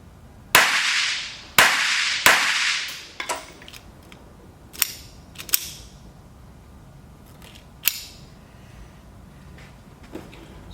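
A Beretta 418 pistol fires outdoors: three sharp, loud shots in quick succession, then a few smaller cracks and clicks scattered after, each with a short ringing decay and no voices.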